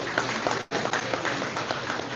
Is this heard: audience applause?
yes